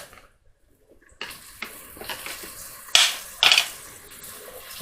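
A tablespoon of butter dropped into a pan of onion and garlic: after near silence a sizzling hiss starts, rising in two louder bursts of spitting crackle.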